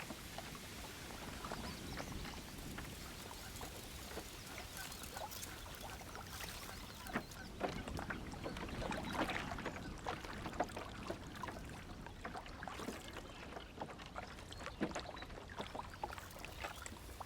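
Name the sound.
canoe floating along a reed bed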